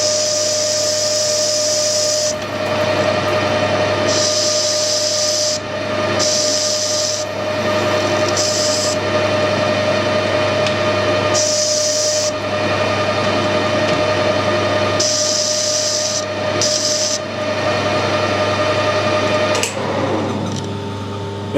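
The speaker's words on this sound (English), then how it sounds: "just going to put a nice chamfer on the two edges" A metal lathe cutting a chamfer on two edges with a steady high whine, sharp hissing bursts coming and going at irregular intervals over a constant motor drone.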